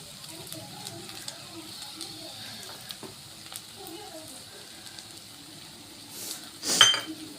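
Stuffed okra with coriander is stirred in a pan, giving a soft, faint sizzle with light scraping. A sharper clink of a utensil against the pan comes near the end.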